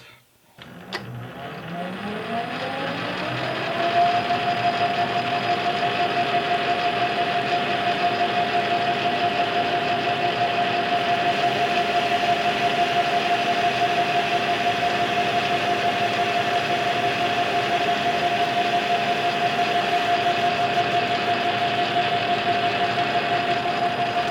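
A lathe cutting a tapered pipe thread for a gas accumulator, a steady motor hum that rises as the machine spins up and then holds a constant, close whine with a clear tonal ring.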